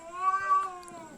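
Male cats courting a lone female cat let out a clear, close, drawn-out meow with a wavering pitch.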